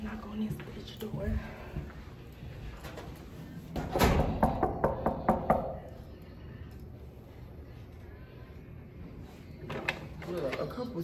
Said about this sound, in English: Let's knock on this bitch door.